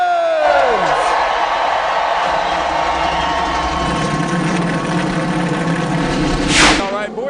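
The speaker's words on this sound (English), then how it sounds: "Gentlemen, start your engines!" Field of NASCAR stock car engines roaring to life together at Richmond, a loud, dense, sustained rumble with a rising whine near the end, crowd noise mixed in.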